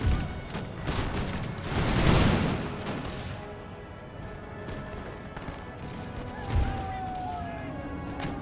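Musket volley fire in an American Revolution video game battle, a burst of crackling shots clustering early then scattered reports and a sharp bang later, over faint background voices.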